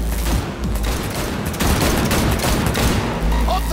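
Rapid gunfire rattles through a car chase in the video game Cyberpunk 2077, dense bursts over engine rumble, with voices shouting over the shooting.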